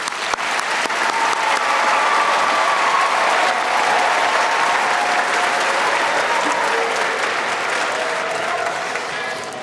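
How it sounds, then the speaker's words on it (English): A large audience gives a long, loud round of applause at a community celebration event, with dense clapping sustained for several seconds, some voices and cheers mixed in, easing slightly toward the end. "If you just join me in a huge round of applause to all the people who made this happen."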